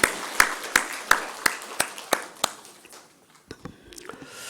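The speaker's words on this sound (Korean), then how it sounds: "우리가 크게 한 박수로 환영하겠습니다" A church congregation at a Sunday service claps in welcome for newly married guests, a run of sharp, evenly spaced claps that loosens and fades toward the end, with some faint voices underneath.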